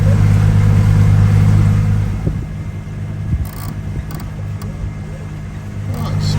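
A catamaran's starboard engine drones steadily while the boat sails, a loud low hum that eases in level partway through, with occasional bumps and bursts of wind noise over it.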